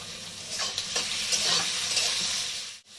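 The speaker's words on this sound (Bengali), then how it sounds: "এর মধ্যে দিয়ে দেবো দুটো টমেটো আমি কেটে রেখেছি, টমেটোটা আমি দিয়ে দিচ্ছি" Chopped tomatoes fry with softened onions in a pan, giving a close, bright sizzle with several stirring scrapes, steady until a short dip near the end, no voices.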